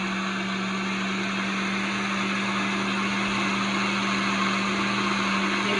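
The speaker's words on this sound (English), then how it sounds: "Good, 30 seconds on the blender." A blender whirs steadily at high speed on liquefy mode, a constant motor drone with a strong hum, running alone without any change in pitch.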